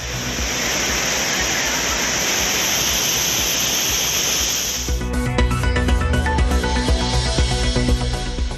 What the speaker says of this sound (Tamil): குற்றால அருவிகளில் 6வது நாளாக தொடரும் வெள்ளப்பெருக்கு.